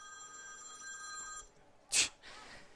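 A telephone rings in a football commentary box during a National Premier League South Australia match, a steady electronic tone lasting over a second before a short, sharp burst of noise.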